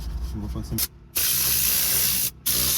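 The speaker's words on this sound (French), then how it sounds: "On va vraiment tout refaire avec la vapeur, histoire de bien tout désinfecter." A steam cleaner sprays hot steam inside a Mercedes car in two long, loud, close hissing bursts, separated by brief pauses.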